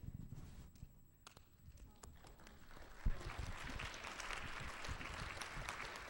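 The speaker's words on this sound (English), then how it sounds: "That's very good clapping." An audience claps together at the start of a laughter yoga session at a public nutrition and health forum in Boston, the clapping rising from scattered beats into a fuller, steady patter that carries under talk.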